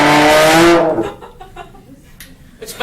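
A motorcycle imitated on a slide instrument, likely a trombone: a loud, buzzing revving tone with rising harmonics for about a second, then fading into quieter room noise.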